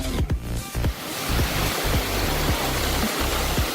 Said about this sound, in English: So I think we just arrived to the waterfall.